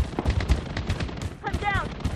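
Gunfire rattles out in rapid bursts in the online shooter game Blood Strike, with close, sharp reports under game voice chatter and a brief high tonal in-game alert.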